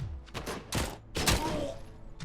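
Bursts of MAC-10 submachine gun fire in a video game, several loud clustered volleys with short gaps between them, close and sharp.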